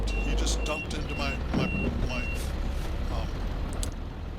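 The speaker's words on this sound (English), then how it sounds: "the sand here is soft also, so you can hear me giving quite a bit of throttle" A heavy dump truck engine labours and revs hard under load in soft sand, with short electronic beeps and a voice talking over the rumble.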